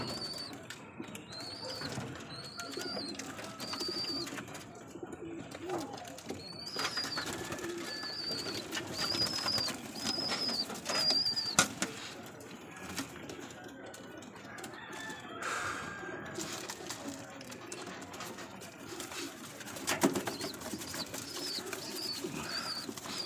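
Breeder racing pigeons coo in a loft, with soft repeated cooing and murmuring over a busy background of other birds, including occasional clucks and crowing, steady throughout at moderate loudness.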